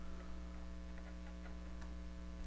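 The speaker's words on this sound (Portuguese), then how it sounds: "Vou até colocar aqui o ventilador." An electric fan runs beside a computer, giving a steady low motor hum with faint ticking and no speech.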